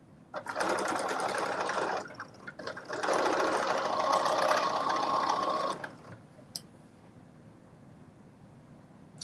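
A sewing machine stitches a seam at 5/8 inch on a McCall's 8037 pattern in two steady runs of a few seconds each, close and whirring, then falls quiet except for a faint click.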